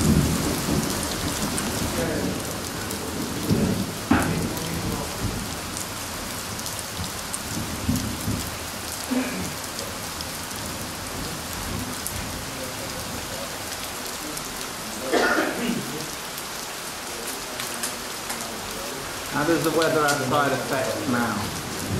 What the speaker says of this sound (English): The rain, I love rain, no problems.